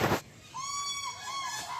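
A duck at Patna Zoo calls with a couple of drawn-out, nasal squawking cries, moderately loud and nearby, after a brief burst of noise at the start.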